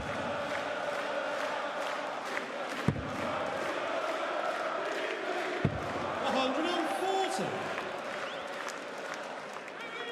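A darts crowd at the German Darts Championship semi-final roars and cheers for Peter Wright, a dense, sustained wall of applause and shouting with a couple of sharp thumps, while a commentator talks over it.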